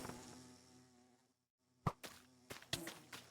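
Angry bees swarming in Minecraft, short buzzing bursts that come and go after a fading musical tone, fairly quiet and close with no talking.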